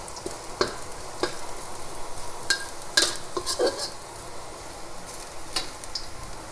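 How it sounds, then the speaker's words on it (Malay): Garlic frying in a pan while being stirred, with scattered sharp clinks of a utensil against the pan over a steady low sizzle. "Goreng bawang putih sehingga garing atau kecoklatan sedikit."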